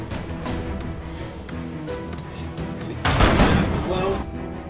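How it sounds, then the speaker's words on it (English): Cannon fire booms from the ship battle game Abandon Ship, with scattered thuds and a heavy burst of crashing noise near the end over a game soundtrack. "then you go heal my guy while he's still firing the cannon"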